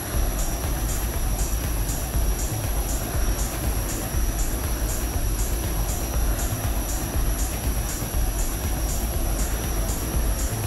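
Continuous engine roar of an aircraft flyby in the FlightGear flight simulator game, a steady, loud broadband drone with a constant high whine held throughout.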